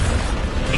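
A Bombarda spell explosion from Hogwarts Legacy on PS5 lands as one loud, dense, close blast of rumbling noise that fills the whole short moment without a break.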